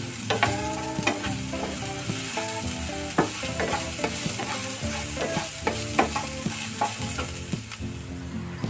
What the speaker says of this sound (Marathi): तीन ते चार मिनटं तोंडली फ्राय करायची